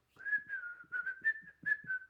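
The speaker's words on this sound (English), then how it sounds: "It ain't good for women to whistle." A woman whistles a wavering tune alone, with several sustained, sliding notes in short phrases separated by brief breaths, clear and close.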